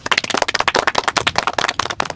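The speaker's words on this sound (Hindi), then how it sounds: "बजाओ ताली।" Quick, dense clapping from a small group keeps up a steady patter of sharp hand slaps, close and fairly loud, at a casual outdoor gathering with a toto e-rickshaw.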